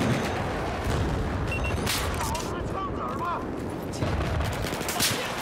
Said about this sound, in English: they're shooting from up there